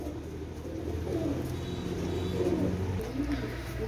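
Imamdin pigeons cooing in a loft, low rounded coos repeating in a steady murmur at moderate volume over a constant background hum.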